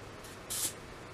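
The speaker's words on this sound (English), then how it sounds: "Hit it with some hairspray." Hairspray from an aerosol can is sprayed onto a hair bun in one short, close hiss lasting a fraction of a second against a quiet background.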